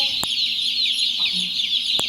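Day-old chicks cluck softly nearby in a brooder over a constant high-pitched insect-like hum, with a couple of brief clicks.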